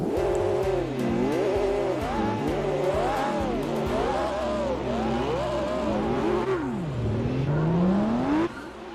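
Nissan Concept LM race car in Gran Turismo 4 screams through repeated gear changes, its engine pitch rising and dropping in quick cycles, loud and close, then a long climbing rev with tire noise underneath.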